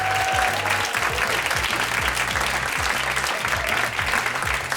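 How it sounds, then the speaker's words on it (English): A WNYC studio audience at a live Brian Lehrer Show taping gives a steady round of applause, a continuous wash of clapping over a low hum. "Give yourselves a round of applause."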